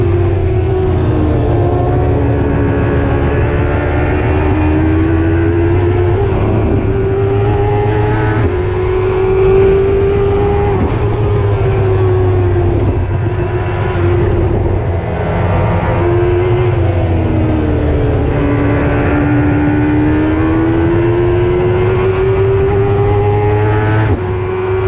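Race car engine droning steadily during a race while developing an engine problem and losing pace, a loud continuous tone wavering slightly in pitch throughout with no clear acceleration.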